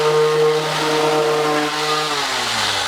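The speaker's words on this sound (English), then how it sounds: "we definitely wouldn't be able to do this project without a power sander. And one of the sanders we have is a palm sander." A palm sander works on wood during a rolling bookcase upcycle, giving a loud, steady motor whine with a rough buzzing edge that dips in pitch toward the end as it winds down.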